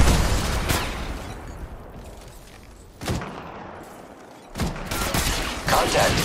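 Gunfire crackles through a match of the Apex Legends Mobile shooter game, with loud, dense rapid-fire bursts broken by brief lulls and sharp repeated shots, all close and continuous.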